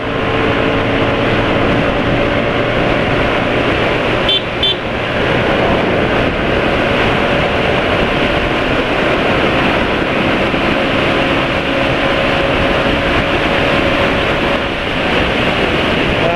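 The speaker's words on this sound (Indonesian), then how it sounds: "Anginnya kencang ya." Strong wind buffeting an outdoor microphone, a steady broadband roar that runs loud and continuous throughout with no voices.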